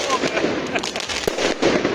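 New Year fireworks over Vilnius crackle and pop in rapid bursts, close and loud, while people talk over them.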